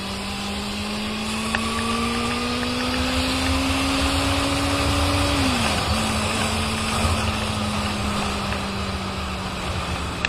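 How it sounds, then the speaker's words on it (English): A Benelli 600i with an inline four-cylinder engine runs steadily, its smooth, loud drone holding a sustained tone that shifts pitch once midway, heard close and continuous with wind noise and no talking. "Being a inline 4-cylinder bike guys, this bike sounds really crazy"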